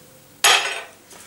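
A metal spoon strikes a dish once with a sharp, bright clink that rings on and fades over about half a second. A fainter second touch follows, with no voices.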